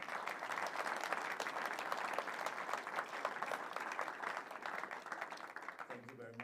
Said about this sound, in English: shouldn't we just give these people a fantastic applause